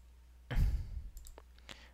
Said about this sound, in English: Click these points there.